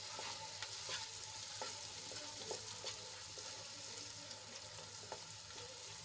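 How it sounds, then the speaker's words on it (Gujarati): Steady frying sizzle with repeated scraping and stirring of a spoon against a pan, close and continuous, no voices. "એ બધા મસાલા સરસ રીતે મિક્સ કરી લઈશું"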